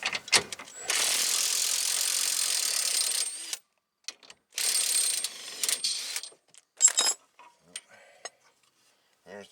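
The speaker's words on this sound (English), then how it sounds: "Let's get that bolt all the way out." A ratchet works a bolt out of the rear bearing assembly on a 2015 Buick Enclave, with two long buzzing clicking runs followed by scattered short clicks and metallic taps, close and clear.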